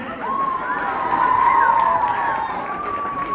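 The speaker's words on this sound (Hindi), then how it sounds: "तो जोरदार तालियों के साथ एक बार फिर इनका स्वागत किया जाए" Outdoor crowd at a football tournament prize distribution in Gumla, cheering with shrill whistles and shouts in a steady, loud wash of noise throughout.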